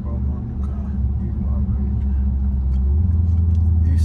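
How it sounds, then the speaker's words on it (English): A Dodge SRT engine downshifts inside the car, its loud low rumble swelling and deepening steadily over four seconds, with people talking over it. "Yeah, that's downshift."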